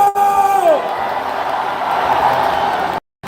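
A rally crowd in Gwangju opposing an impeachment roars back in a loud, sustained shout that follows a brief shouted cue from a speaker and cuts off abruptly near the end.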